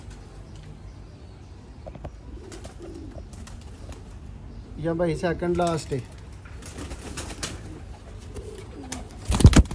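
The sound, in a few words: pigeons cooing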